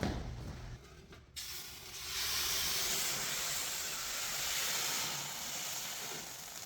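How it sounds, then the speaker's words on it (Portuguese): Boiling water poured into a hot oven tray for baking homemade bread releases a loud, steady hiss of steam that swells and holds. "Essa água aqui ela vai soltar um vapor e vai melhorar a casquinha do pão"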